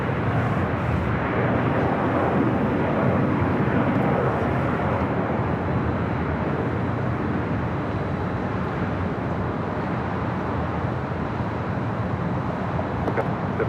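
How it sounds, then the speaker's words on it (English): An All Nippon Airways Boeing 787 Dreamliner arriving at Los Angeles International Airport from Tokyo Haneda makes a loud, steady jet roar that holds evenly throughout, with no talk. "up next on the Nippon Airways, the Dreamliner coming in from Tokyo Haneda"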